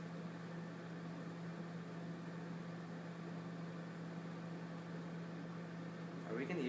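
A microwave oven runs with seven eggs inside, giving a steady low electrical hum with a faint whirring fan beneath, unchanging for several seconds before a brief rising noise at the very end.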